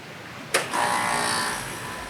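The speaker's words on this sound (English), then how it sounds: "That sound means the compressor is running." An air conditioner's outdoor compressor kicks on with a sharp clunk, then settles into a steady, loud mechanical hum and whir that holds close by and eases off slightly toward the end, with no talking.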